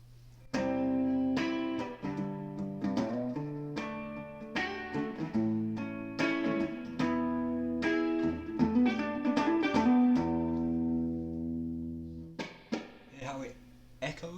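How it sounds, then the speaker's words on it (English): An electric guitar plays with reverb switched on, a slow melody of single notes and chords whose tails ring out and blend into a spacious wash, close and clear with no talk. "When you have the reverb on, you get a sort of echo, and it sounds like you're a bit further away or in a large space."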